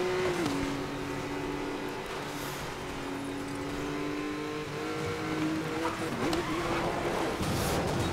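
Race car engine in the video game Need for Speed Most Wanted (2012), a steady loud droning roar with rising and shifting pitch as it accelerates, continuous throughout with faint tire noise.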